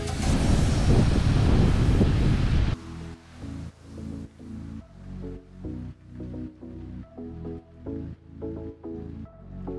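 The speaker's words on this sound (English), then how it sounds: "it's raining right now, but it is pretty windy." Strong gusty wind roars across the microphone at first, then eases into rhythmic rushing bursts, like surf and wind buffeting on an open beach in Aruba during rain.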